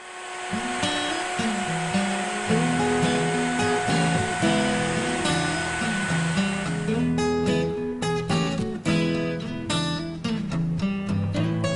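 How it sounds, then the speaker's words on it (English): A wood router guided by a jig cuts hinge mortises, giving a loud, steady motor whine that runs the whole time and roughens with bursts of cutting noise in the later seconds. "attach my jig, start up the router, and go"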